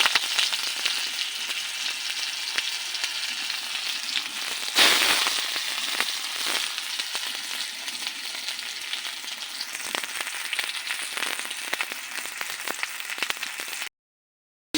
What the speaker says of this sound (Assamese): তেল দি এতিয়া পিয়াজ দিলো